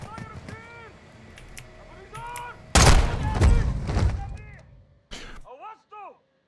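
Shotgun blasts ring out in the Modern Warfare 2022 campaign, with a heavy, close boom followed by a rumbling tail and a second sharp shot later, while voices talk throughout.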